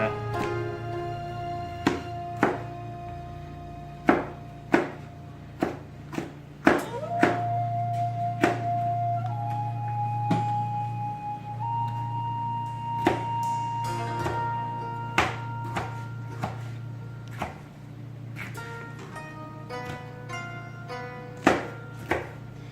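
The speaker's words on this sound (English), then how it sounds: "I cut them in little thin slices like this" Knife cuts sweet peppers into thin slices, giving a series of sharp, distinct taps on the board at an irregular, unhurried pace, close and clear over a low steady hum.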